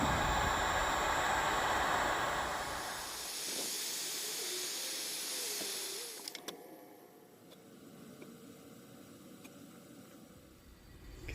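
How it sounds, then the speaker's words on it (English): A heat source warms a faded Mylar decal on painted metal to loosen it for peeling, producing a loud, steady airy hiss for about six seconds before cutting off to near silence with a few faint clicks. "Going to heat up that decal, see if I can get it to peel off there"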